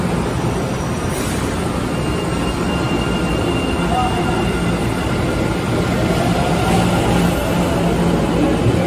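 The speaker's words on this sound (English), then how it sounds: "Good to see the Orange Line train back up and running." A Boston MBTA Orange Line subway train rumbles steadily and loudly at Downtown Crossing station, a continuous roar of wheels and motors with faint squeals above it.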